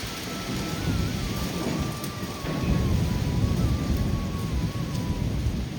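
Steady rain falls outdoors during a spell of drizzly, cloudy harvest weather, with low rumbling thunder rolling underneath throughout and a faint thin whistle-like tone drifting above; no one speaks.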